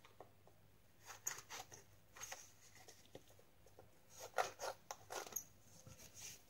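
Scissors make soft, faint snips through a thin serviette napkin at a craft table, a few scattered cuts close by in a quiet room with no speech.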